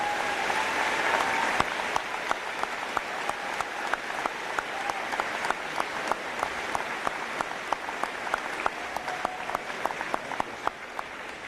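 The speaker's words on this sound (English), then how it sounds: "Let's give them a round of applause as well." A crowd applauds steadily for about eleven seconds at the St. Marys Memorial High School 2023 graduation ceremony, a dense wash of clapping with individual claps popping out, heard from within a large room with no talk over it.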